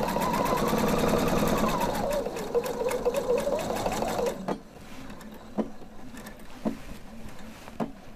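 A sewing machine stitching a diagonal stitch on a stand-up collar, a fast steady mechanical whir with pitch sliding as the speed changes, then it stops, followed by a few soft clicks and taps.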